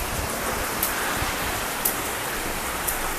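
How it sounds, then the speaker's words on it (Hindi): Steady outdoor rain falls throughout, a dense even hiss with a few slightly sharper drops tapping now and then, fairly close and with no voices. "तो आप देख सकते हैं कि बारिश यहाँ पर चल रही है"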